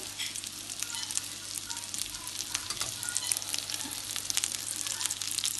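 Goan mackerel fish cutlets fry in hot oil with a steady, dense sizzle that holds at an even level throughout, close and continuous with no talk.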